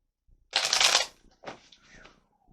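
Tarot cards are shuffled close up for a reading, one quick riffle burst followed by a shorter, softer second shuffle, with no talking.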